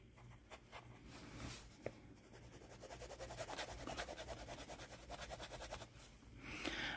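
A Franklin Christoph fountain pen with a broad nib, filled with Diamine Velvet Emerald ink, scratches softly across paper in continuous close strokes, quiet and dry with small rhythmic pulses of lettering.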